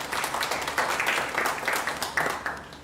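Applause at a book prize award ceremony, a dense wash of many hands clapping continuously for a few seconds, moderately loud and unbroken.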